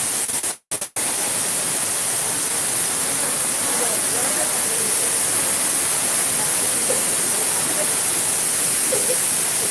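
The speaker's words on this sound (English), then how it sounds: "we're approaching the waterfall now" Kanto Lampo waterfall in Bali roars as a steady, dense broadband rush of falling water, loud and continuous, close by, with faint voices briefly audible.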